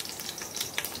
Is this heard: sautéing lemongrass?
yes